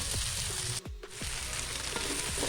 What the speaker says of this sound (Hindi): अब हमने भिंडियाँ काट के रखी थी आधा किलो, और वो हमने इसमें ऐड कर दी हैं। अब दोनों को हम फ्राई करेंगे।